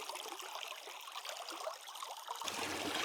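Rainwater trickling and dribbling into a cave home dug into a mountain, a soft, continuous watery patter that is faint and close, with a slightly fuller flow toward the end.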